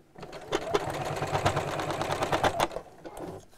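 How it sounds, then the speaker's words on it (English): A sewing machine backstitches a seam on a round bamboo-handle bag, a fast, steady, close mechanical chatter that runs for a few seconds and then stops, with no talk. "So make sure you backstitch to secure and line up the edges"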